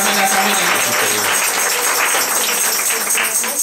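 A church congregation claps in a steady, dense wash of applause while voices sing or call out loudly over it throughout.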